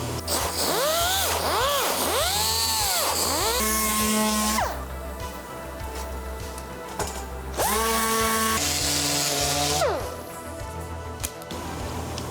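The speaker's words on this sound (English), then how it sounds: "I'm gonna sand everything down" A power sander working over the body of a BMW E30 car, its motor pitch rising and falling as pressure changes, loud and close in long whining passes separated by brief quieter gaps.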